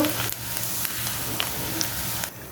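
White puffed rice fries in a pan, a dense, even crackling sizzle heard close for a brief moment, with a couple of faint clicks and no voices.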